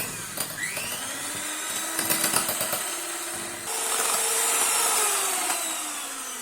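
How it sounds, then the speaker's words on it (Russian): An electric mixer whips powdered sugar with an egg white into icing, a steady motor whine that rises and shifts in pitch, with rattling and scraping against the bowl close up, no talking. "Беру миксер и взбиваю их."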